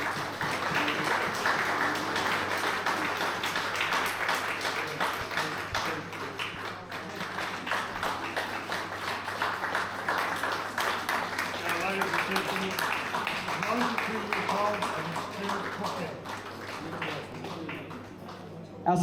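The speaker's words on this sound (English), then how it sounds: "give Enzo a big round of applause" Audience applause at a 10th anniversary gala dinner, a long steady wash of clapping with a low hum underneath, continuing evenly for nearly twenty seconds.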